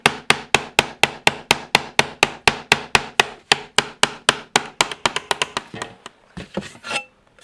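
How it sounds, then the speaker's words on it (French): A ball-peen hammer's rounded end taps a metal shield from the inside to raise relief in its motifs, giving a steady run of sharp, ringing strikes that quicken and lighten toward the end, then a few scattered knocks. "avec la partie boule de mon marteau, venir frapper à l'intérieur de mes motifs"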